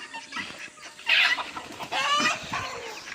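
Chickens cluck and squawk nearby in a busy, overlapping chatter, with a sharper cry standing out partway through.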